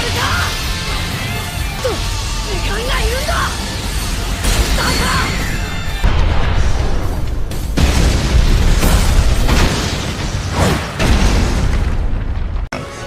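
An animated chakra cannon fires to destroy the moon amid a fierce Naruto battle, heavy booming explosions and crashing impacts layered with swooshing effects, loud and dense throughout with a sharp drop near the end.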